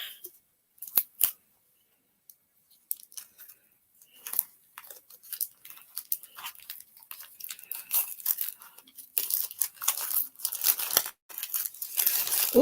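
Plastic packaging is torn open by hand in scattered sharp crinkles and rips, sparse at first and then denser and louder toward the end, close up and with no talking.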